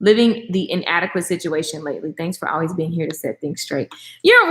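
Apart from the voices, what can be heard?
No distinct noise like a dog, phone or traffic.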